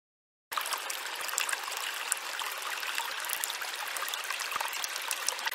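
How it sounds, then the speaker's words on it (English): A stream gurgles over rocks, starting after a brief silence and then running as a steady, close, full-bodied rush of water with faint splashes and bubbling throughout. "A stream gurgled over the rocks."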